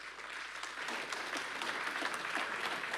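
Audience applause at a conference on European strategic autonomy, AI and cybersecurity, a steady wash of clapping heard from a slight distance and holding even for about three seconds.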